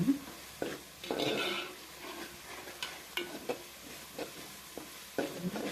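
Goat blood fry with pepper powder is sautéed in a pan, giving a low sizzle broken by repeated scraping stirs and a few light utensil knocks, heard up close with no speech.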